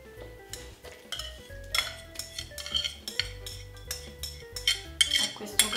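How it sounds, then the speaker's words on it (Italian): Cooked wheat being mixed in a large bowl for a pastiera filling, with a utensil repeatedly scraping and clinking against the bowl in an uneven rhythm, close and moderately loud, no talking. "Adesso mescoliamo il tutto in una zuppiera molto capace"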